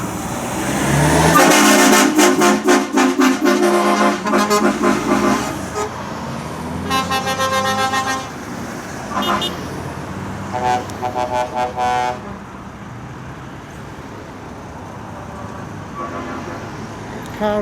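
Trucks pulling out of a Truckfest show on the Sunday, among them a big V8 Scania, with loud horn toots and engine roar near the start, then repeated horn blasts and passing traffic fading through the rest.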